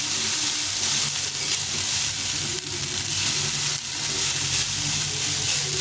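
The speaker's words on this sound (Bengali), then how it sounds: "আমি সবজি দিলাম না শুধু ভাতটাই ভেজে নিলাম" Rice sizzles and fries steadily in a pan with turmeric and garlic, a loud continuous crackle with occasional stirring scrapes and no voices.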